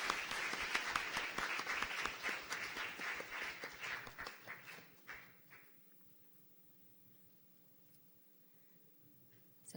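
Audience applause at a youth conference opening ceremony of a UNESCO world conference on ESD, loud dense clapping for the first half that thins out and fades to quiet room ambience.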